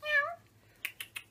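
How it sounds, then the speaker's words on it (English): A pet cat gives one clear, close meow, followed by a few soft clicking or tapping sounds in an otherwise quiet room. "This is my adorable kitty, Sir Pounce."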